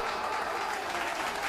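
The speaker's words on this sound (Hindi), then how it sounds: "उसका अगला वाक्य तालियों की गूंज में डूब गया" A crowd at a student election rally breaks into sustained applause, a thick, even roar of clapping from many people that swallows the speaker's voice completely.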